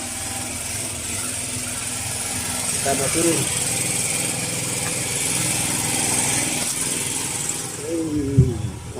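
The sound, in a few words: engine running on Bagan Fahri 05 fishing boat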